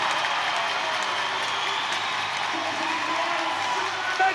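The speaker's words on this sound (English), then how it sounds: "Listen to this crowd." Loud, dense hockey arena crowd roaring and cheering during a fight at a Storm vs Sioux City game, a steady wall of noise with scattered clapping and whoops throughout.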